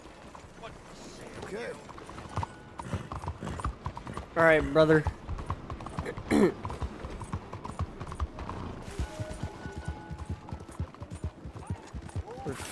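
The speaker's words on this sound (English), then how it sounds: "Here's my horse." A horse's hooves clip-clop in Red Dead Redemption 2, with uneven steps and a few louder, sharper hits near the middle, heard close alongside a man's brief spoken remarks.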